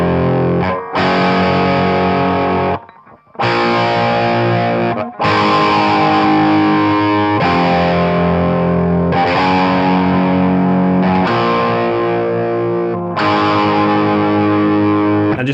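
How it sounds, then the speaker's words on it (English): An electric guitar on the bridge pickup plays distorted power chords for a song, loud sustained chord blocks separated by short breaks and abrupt changes. "You just get power chords like this."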